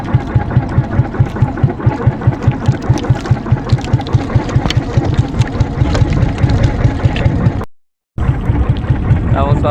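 A fishing boat's engine runs close by at sea with a steady, rhythmic chugging pulse, loud and continuous, briefly cut out near the end.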